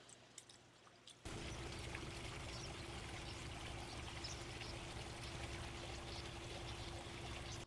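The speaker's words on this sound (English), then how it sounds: "So I'm going to fill up the reservoir first, but it's really important that you water from the top" Water pours steadily from above into a planted herb container, a soft continuous trickle that starts abruptly and keeps running, quiet and close with no talking.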